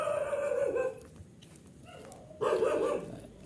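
Several dogs bark in short bursts at a moderate distance, with a pause between the first and last outbursts.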